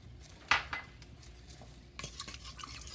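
A spoon scraping and clinking against a pan while teriyaki sauce with brown sugar is stirred, a few sharp metallic taps and soft scrapes, quiet and close.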